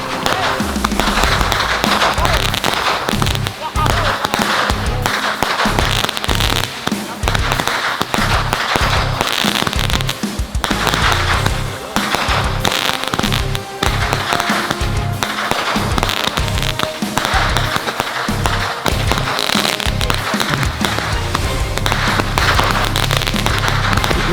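Novelty fireworks and firecrackers set off for a New Year 2024 celebration: dense, continuous crackling and popping bursts with booming low thuds throughout, loud and close, with excited shouting voices mixed in.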